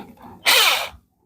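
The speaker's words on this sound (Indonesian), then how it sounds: "Oke, kita akan rapikan menggunakan mesin bor" A single short burst of a power drill whirring against a tapered part to smooth its surface, loud and close, lasting about half a second before cutting off to silence.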